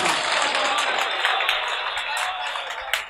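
Dense, continuous applause from the audience at a mushaira poetry gathering in Rudauli, Ayodhya, sounding full and close throughout, with a few sharper claps standing out.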